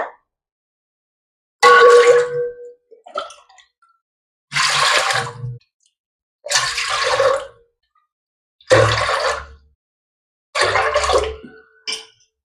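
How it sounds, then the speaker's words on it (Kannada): Five glasses of water are poured one after another into a pot for cooking rice: five separate loud, close splashing pours, each about a second long, with silent gaps between and no speech. "5 ಗ್ಲಾಸ್ ನೀರು ಹಾಕೋಬೇಕು ನಾವು ಇಲ್ಲಿಗ"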